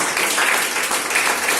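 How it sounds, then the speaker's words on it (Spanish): A church congregation applauds together during a Spanish-language sermon, a dense, steady wash of clapping that fills the whole moment at close range. "Dale un fuerte aplauso al Señor."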